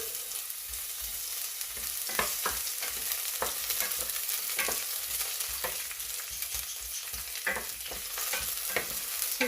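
Onions sautéing in a pan for stir-fried mussels, a continuous close sizzle broken by repeated scraping stirs, with no voices present.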